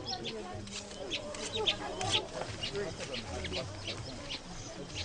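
Chickens brought as a sacrifice beside the Nile cluck faintly in a few short calls within a noisy outdoor ambience, with distant voices murmuring in the background.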